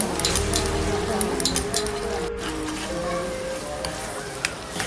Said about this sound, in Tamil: இப்போ அரைச்ச பேஸ்ட்டை நாம் தூக்கி இந்த மசாலாவில் ஊற்றி நல்லா மிக்ஸ் பண்ணிடலாம்